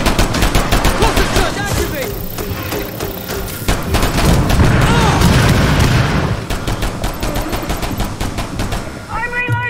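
Cluster charge explosions and gunfire in the video game Rainbow Six Extraction: rapid automatic bursts with sharp repeated cracks, a heavy rolling blast in the middle, then more firing, loud and close throughout.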